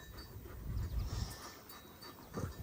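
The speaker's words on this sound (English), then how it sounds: "The camera's moving because Spike is breathing" A dog pants in hot weather on a farm, its close, quiet breathing rising and falling in short bursts over a low outdoor rumble, with no talk.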